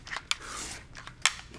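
Scissors snip through paper while cutting a quilt block, with two crisp, separate snips and a soft rustle of paper between them, close and fairly quiet.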